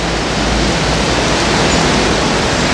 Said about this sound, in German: Und jetzt regnet es erstmal ganz kräftig